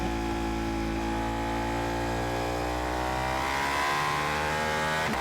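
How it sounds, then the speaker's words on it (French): Car engine revving hard with an exhaust spitting flames, a loud continuous engine note that climbs in pitch through the gears, close and dominant, ending with a brief sharp crack. "Il a dû cracher des flammes, le silencieux"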